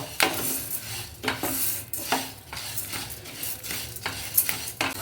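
Horse gram and five or six raisins being stirred in a hot pan for a two-in-one recipe, a spoon scraping and clinking against the metal in repeated strokes, close and fairly loud, with a faint sizzle underneath.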